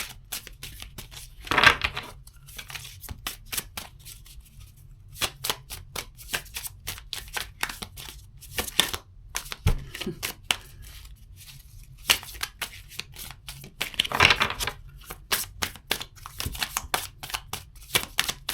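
Tarot cards being shuffled by hand, repeated riffles and quick papery flutters in bursts with short pauses between, close and fairly loud, no voices.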